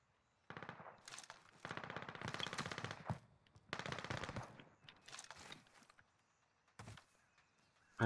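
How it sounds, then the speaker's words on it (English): Bursts of automatic gunfire in a Call of Duty: Modern Warfare match, rapid rattling volleys coming in several separated clusters with short gaps between them, loud and close, with no talk over it. "Where are these shots coming from?"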